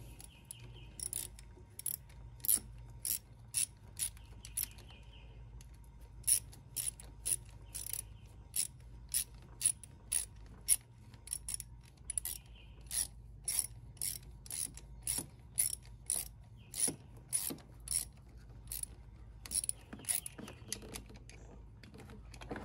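A ratchet with an extension and a size 10 socket tightens a starter bolt on a Yamaha Grizzly 550 ATV, giving bursts of sharp clicking strokes at an irregular pace with short pauses between them.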